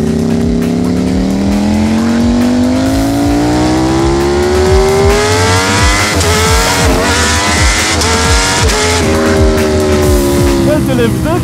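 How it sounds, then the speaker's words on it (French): A Ducati Panigale V4 SP sport motorcycle at speed on the Autobahn, its loud engine climbing in pitch through repeated gear changes, with sharp shift blips and rising revs throughout, under wind roar. "le bruit des passages de rapport"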